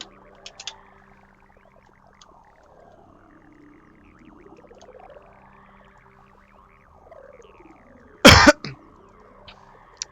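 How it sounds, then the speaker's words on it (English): A single sharp cough lands loudly right against the microphone, preceded by long stretches of quiet, looping synthetic game sounds and faint clicks. "Let's not cough straight into the mic."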